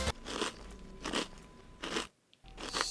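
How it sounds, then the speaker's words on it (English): Two people crunch through hard-shell tacos up close, with a run of sharp, crackly bites and chewing in repeated bursts, a brief quiet gap near the end, and no talking. "We are eating hard-shell tacos in complete silence. You can hear both of us chewing it."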